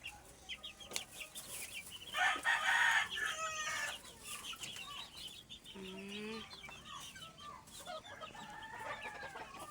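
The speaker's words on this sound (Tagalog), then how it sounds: "Oh, ang daming sisiw." Many chicks and hens on a farm peep and cluck in an overlapping chorus, a louder burst of high chirping rising near the middle, with scattered calls continuing throughout.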